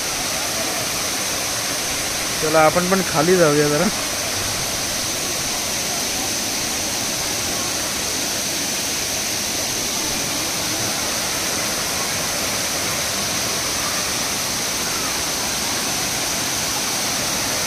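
Steady broadband roar of the Savdav waterfall near Kankavli in the Konkan, constant and full throughout, with a brief burst of talk early on over the rushing water.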